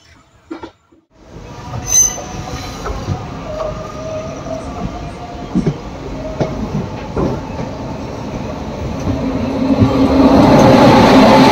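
Mayiladuthurai–Mannargudi passenger train rolling along the rails, a steady rumble with faint wheel squeal and rhythmic clicks that grow louder and denser toward the end, with no voices.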